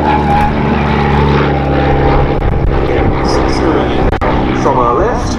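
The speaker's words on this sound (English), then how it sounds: "There's a slightly little aeroplane, the Auster." Auster T-7 light propeller trainer aircraft flying at an airshow at Duxford, a steady buzzing engine drone throughout, with a commentator talking over it.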